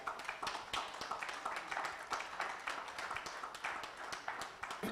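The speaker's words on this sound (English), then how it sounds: "The ambassador applauds." A small group claps at a foundation meeting, with quick, light, steady hand claps from a few people in a room, fairly faint and continuing without a break.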